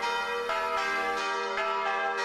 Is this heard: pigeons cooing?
no